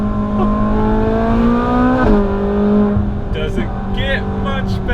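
A Ferrari 458 Spider engine drops through quick downshifts on a slippery road, its loud, close engine note stepping in pitch with crackling blips, alone without talk.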